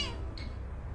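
A pet cat meowing in a duet with its owner, one brief high mew partway through, heard over a low background hum.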